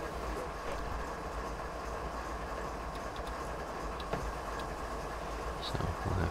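Freight train rolling downhill on Marias Pass in Train Simulator, a steady low rumble of wheels and cars with faint clicks and knocks, continuous and moderately distant.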